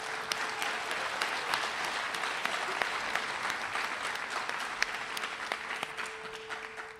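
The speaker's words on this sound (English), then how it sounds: "Let's give them a round of applause." Applause for new FFA Green Hands at an agricultural program spring banquet, a steady, moderately distant wash of crowd clapping that carries on for several seconds with individual claps popping out and thins slightly at the end.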